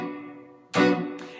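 A guitar strums bar chords cut short with left-hand staccato muting: a ringing chord fades, then a loud strummed chord is abruptly choked and another short stab follows, close and alone.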